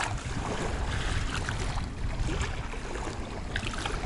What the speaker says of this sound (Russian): Ветер у нас на берегу.